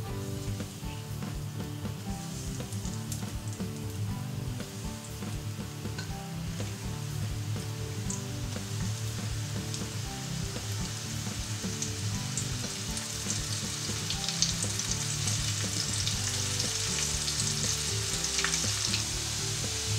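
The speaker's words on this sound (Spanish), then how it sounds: "Y cuando esté caliente, vamos friendo nuestras rabas." Squid rings fry in plenty of hot oil in a pan, giving a steady, dense, close crackle and sizzle that runs without pause, with faint stirring and no talk.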